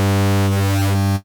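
Short burst of a Vital wavetable lead set to vocode phase style, a dense buzzy harmonic drone with a moving, electric sweep in its upper range, loud and alone before a quick fade.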